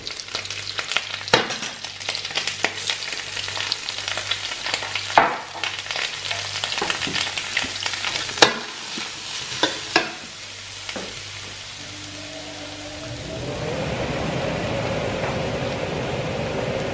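Garlic and shallots frying in oil in a pan, a steady sizzle broken by sharp stirring scrapes and clinks, the sizzle swelling into a louder, broader hiss near the end, no talk.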